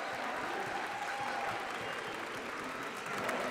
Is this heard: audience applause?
yes